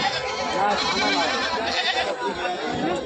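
Goats of desi and other breeds bleat repeatedly at a busy livestock market in Jaswant Nagar, Uttar Pradesh, their cries overlapping with people talking nearby.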